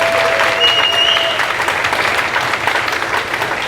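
An audience at a school winter concert claps in steady, dense applause that fills the room throughout, loud and continuous, with no talking.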